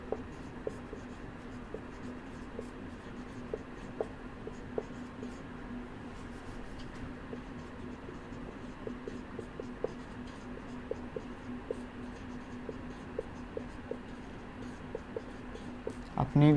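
Pen or chalk writing on paper or a board during a physics lesson, faint soft scratchy strokes with small taps over a low steady hum.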